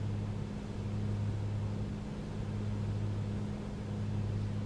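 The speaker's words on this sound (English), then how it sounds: "the engine sounds way better. Way smoother." Steady drone of a simulated A2A Comanche 250 piston aircraft engine in Microsoft Flight Simulator, a smooth, even hum with low tonal bands held constant throughout, alone without voices.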